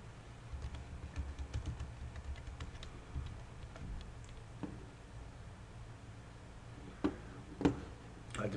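Password keys tapped on a computer keyboard in quick, light clicks, mostly soft and steady with a few sharper taps near the end, set against a low room hum and no talking.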